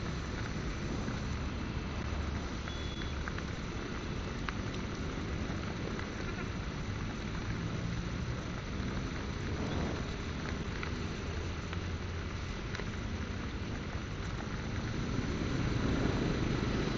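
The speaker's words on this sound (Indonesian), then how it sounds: "walaupun hujan deras begini" Heavy rain pours steadily during a motorbike ride in Central Java, a dense, even roar that holds throughout with a slight rise at the end and no talk.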